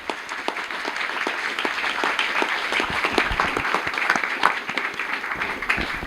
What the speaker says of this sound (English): We get a round of applause for everybody